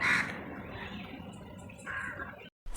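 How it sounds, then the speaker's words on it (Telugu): A crow caws repeatedly at moderate distance, harsh calls running together with little pause, then a brief cutoff near the end. "కాకి కంటిన్యూస్గా అరుస్తుంది"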